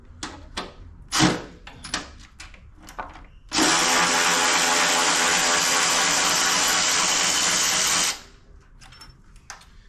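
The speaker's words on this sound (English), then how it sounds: "A lot of times I'll take my socket and find the head of the bolt." A power tool with a socket buzzes steadily for about four seconds while backing out a long 6mm bolt on a Harley-Davidson Pan America during fuel tank removal, loud and close, preceded by a few light knocks and handling clatter.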